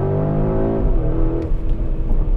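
The engine of a Porsche Cayenne Turbo GT SUV accelerates hard on a public road. Its loud, close tone climbs in pitch and then breaks into a rough, rising roar.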